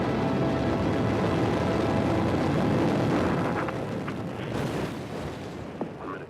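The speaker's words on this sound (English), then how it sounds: "In a fireball, the shuttle Challenger exploded 73 seconds after launch" The Space Shuttle Challenger launch in 1986 brings a broad, continuous rocket roar, loud and distant-sounding. It fades slowly toward the end, with a few sharp crackles near the close.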